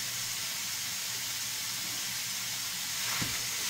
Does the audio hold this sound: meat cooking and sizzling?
yes